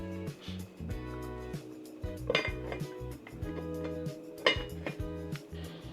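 Metal cooking pot and utensils clink and scrape in repeated small knocks while checking a coconut veggie chunk and peas stew, close and fairly quiet, with a steady background tone.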